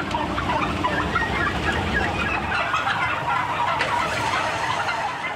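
Crowded poultry packed into a factory-farm barn make a dense, continuous wall of clucking and gobbling calls, loud and unbroken throughout with no talking.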